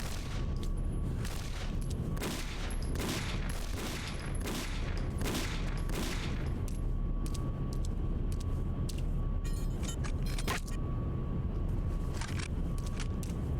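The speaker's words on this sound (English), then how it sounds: "Who's shooting at me?" Sustained heavy gunfire rattles through a tense fight in Condemned: Criminal Origins, dense bursts and booming shots packed together at the start, then thinning to sporadic loud reports over a constant rumbling din.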